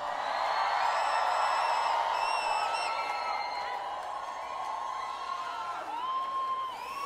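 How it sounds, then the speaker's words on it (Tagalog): A rally crowd supporting Pastor Apollo Quiboloy cheers and shouts steadily and loudly, with whoops and high yells rising above the dense, continuous roar of many voices. "sana, naririnig ni Pastor ang hiyawan at sigawan ng mga nandito"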